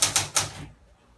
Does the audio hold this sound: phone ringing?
no